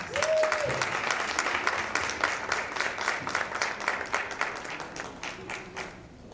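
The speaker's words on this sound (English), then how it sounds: "let's give them a round of applause" Applause from an audience at a school board meeting as students come up to perform, steady dense clapping lasting several seconds, loud at first then thinning toward the end, with faint voices underneath.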